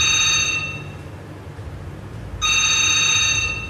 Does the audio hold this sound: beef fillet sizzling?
no